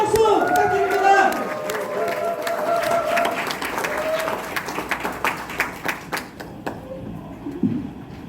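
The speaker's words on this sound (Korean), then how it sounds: "힘찬 박수 부탁드립니다." An indoor audience at a national civic-reform assembly applauds to welcome a protest folk singer, with dense, sustained clapping and crowd noise that thins into scattered claps toward the end.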